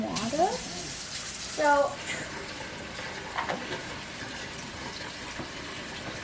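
Warm water is poured into a bowl of bread dough mix in a home kitchen, a faint, brief trickle and splash beneath soft background noise while people talk.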